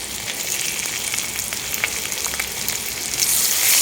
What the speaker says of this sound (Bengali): তো পেঁয়াজগুলোকে আমি এখন ব্রাউন করে ভেজে নেব